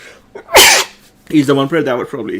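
A single sharp sneeze bursts out close and loud, followed right away by someone talking.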